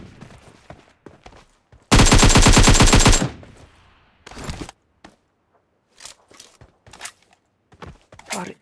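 Rapid gunfire from a shotgun and rifle in the video game Battlegrounds: one loud sustained burst of automatic shots, followed by scattered fainter thuds and footsteps.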